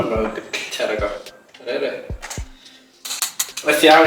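A knife chopping onions on a home kitchen board, heard as scattered sharp knocks and clatter with bursts of denser cutting toward the end, while someone talks over much of it.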